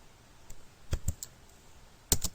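Keys tapped on a computer keyboard while writing HTML, CSS and JavaScript code: a few sparse, close clicks in two small clusters, quiet between them.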